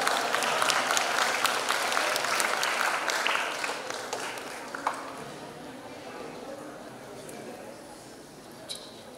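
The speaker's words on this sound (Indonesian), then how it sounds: "boleh berikan tepuk tangan sekali lagi untuk Bapak Ibu dan Ibu" An audience at the ISBI Bandung 2024 Studium Generale lecture event claps in loud, full applause that gradually thins and fades, with a voice speaking over it.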